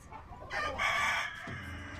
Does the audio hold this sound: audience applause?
no